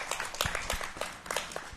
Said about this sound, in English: Crowd's appreciative.